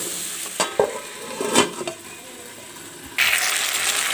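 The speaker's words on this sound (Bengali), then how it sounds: "এখানে যে আলুগুলো দিয়ে দিচ্ছি, আলুগুলো এখন কষিয়ে নেব" Potatoes sautéing in a pan, a few spatula scrapes and knocks over a low sizzle, then a sudden louder burst of frying near the end.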